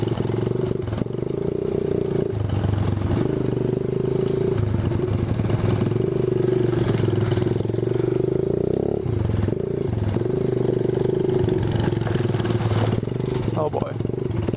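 A Yamaha 80cc four-wheeler engine drones and shifts pitch while trail riding through leaves, its revs rising and dipping steadily up close, with a rider's voice heard over it.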